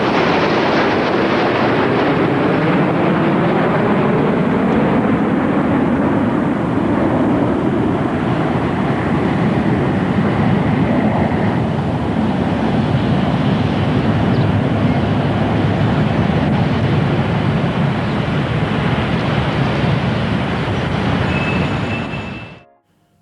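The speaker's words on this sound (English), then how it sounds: "This big Concorde formation, which is being flown for the first time" A formation of Concorde airliners and wood-and-canvas biplanes flies past at Heathrow, a loud sustained roar of jet engines that swells, holds for about twenty seconds, then cuts off.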